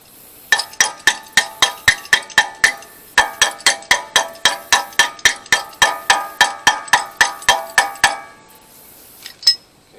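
A hammer taps a protective cover onto the front wheel bearing hub of a 2003 Chevy Tracker 2WD, about two dozen sharp, ringing metallic strikes in a quick, even rhythm, then a pause and a couple of last knocks.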